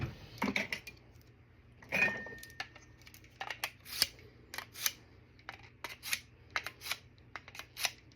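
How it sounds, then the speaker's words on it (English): A kitchen knife being sharpened before cooking, producing quiet repeated metallic scraping strokes and clicks at an uneven rhythm, close by. "I just like to give my knives a nice little sharpening before I use them"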